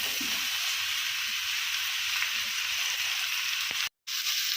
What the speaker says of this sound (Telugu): ఆయిల్ వేడైన తర్వాత కట్ చేసుకున్న మామిడికాయ ముక్కలు వేసుకుందామండి.